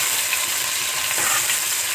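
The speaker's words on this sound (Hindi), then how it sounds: "प्याज को हमने ब्राउन करना है।" Chopped onions browning in a pan for matar chawal pea pulao give a loud, steady, close sizzle of frying with no voices.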